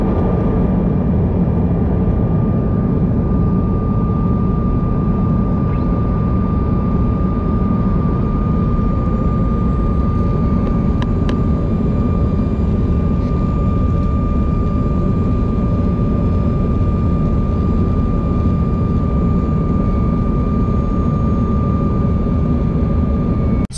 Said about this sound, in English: I'm about to get on that little plane there